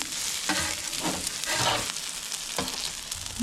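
Eggs sizzle steadily on a Blackstone griddle outdoors while being mixed, with repeated scraping strokes of a spatula over the constant frying hiss.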